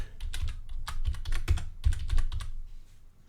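Quick, close bursts of computer keyboard typing while a chart label is renamed, a clear clatter of keystrokes with brief pauses and no talk.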